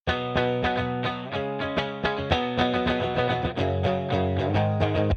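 An electric guitar plays rhythmic chords through a default Marshall-style amp simulator in Logic, with a clean, slightly processed tone, strums evenly spaced and sustained, no voices present.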